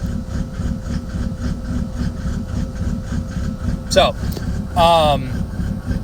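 A diesel engine fitted with an 8mm race injection pump idles close by in a rough, rhythmic pulse, with someone speaking briefly and a short squeaky sound near the end.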